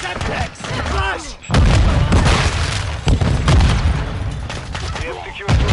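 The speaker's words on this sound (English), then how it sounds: "Tossing smoke grenade! Semtex! Flash!" Grenade blasts and heavy gunfire in Call of Duty Modern Warfare 2 multiplayer, with loud booms and rapid bursts packed together over short gaps, while game voice callouts run underneath.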